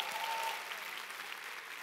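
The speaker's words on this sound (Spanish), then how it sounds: "Vamos, si vas a aplaudir, tienes que hacerlo con más ganas." A church congregation applauds during a sermon, a steady wash of clapping from a crowd that fades slightly, heard at a distance.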